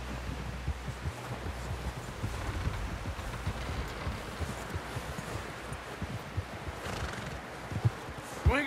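A horse in Red Dead Redemption 2 clops along and neighs, its hooves thudding under ongoing talk and a soft rustling ambience, with a sharper whinny toward the close.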